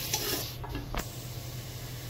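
Chopped onions browning in a pan while cooking white matar and aloo chole, giving a soft steady sizzle with a brief stirring scrape, quiet and close.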